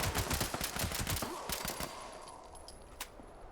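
Heavy-recoil gunfire in Fallout 76, a loud, rapid stream of shots that fills the first two seconds, then thins to a few scattered bangs as the sound fades.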